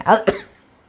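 Two quick, harsh coughs in close succession, close by, then a fade to quiet.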